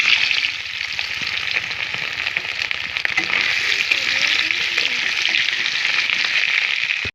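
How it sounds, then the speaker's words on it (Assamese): Peeled potatoes fry in oil left over from frying fish, giving a steady, close sizzling hiss with small crackles throughout and no talking. "মাছ ভজা তেলখিনিতে এয়া বাকলি গুছাই লোৱা আলুখিনি মই অকনমান ভাজি লম"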